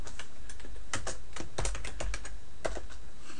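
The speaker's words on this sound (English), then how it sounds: "If I can type." Fingers type on a computer keyboard in quick, uneven bursts of close, crisp key clicks, with short pauses between runs.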